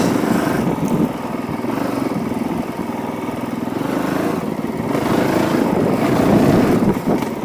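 Honda CRF450L dirt bike ridden in second gear along a rough trail, the engine chugging steadily close by with wind buffeting, the pitch rising and falling gently.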